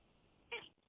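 A cat gives a single short meow, close and fairly clear against a quiet room, lasting well under a second.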